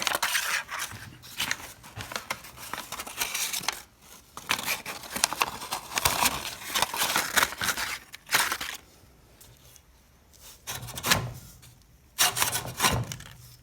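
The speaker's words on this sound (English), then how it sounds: "that's how you backlap a reel mower, and it puts a nice edge on it" A reel mower's spinning reel is backlapped against its bed knife, producing a close, continuous gritty scraping and rasping that runs for several seconds, then breaks into intermittent grinding bursts.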